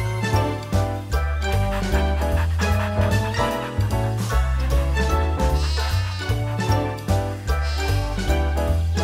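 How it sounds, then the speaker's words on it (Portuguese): Cartoon sheep bleat repeatedly over a continuous bright musical score with bouncy bass, the animal calls blending into the loud, busy soundtrack. "Minhas ovelhas fugiram!"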